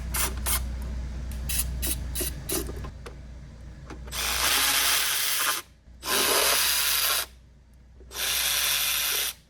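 A ratchet backs out 10 mm bolts from the transmission cover of a 1991-1996 Acura NSX 5-speed manual. A few short clicking bursts come first, then three long runs of fast ratcheting, loud and close.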